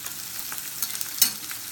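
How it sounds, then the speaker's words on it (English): Cold butter being whisked into a sauce in a pan while salmon trout cooks, soft quick scraping of the whisk over a faint sizzle, brief and quiet with no talking. "You have to just constantly whisk."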